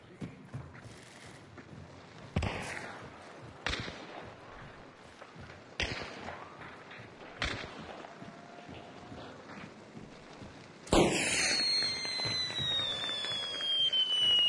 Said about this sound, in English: What are they shooting at right now?